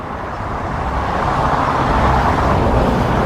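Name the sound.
car passing on Alfreton Road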